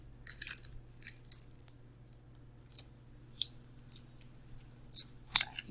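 A sheet of paper is folded by hand with a series of sharp, crisp creasing clicks and rustles spaced irregularly, close and fairly quiet, without speech.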